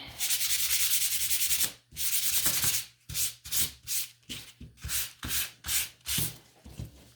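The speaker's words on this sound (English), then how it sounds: "so I'm going to do that sanding" Steady abrasive sanding of a painted wooden sign between coats, first one long continuous rub, then a run of quick back-and-forth strokes in an even rhythm, close and fairly loud.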